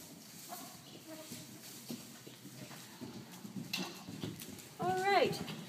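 Horse hooves thud and clop in a show arena during a horse show ride, soft irregular beats under nearby talk, with a brief louder burst of voice near the end.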